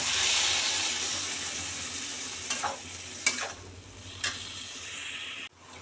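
Boiled bottle gourd tipped into a pan of egg fried with spices sizzles steadily, broken by a few soft stirring scrapes and clinks before it stops abruptly.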